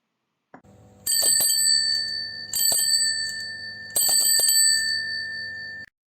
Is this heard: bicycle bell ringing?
yes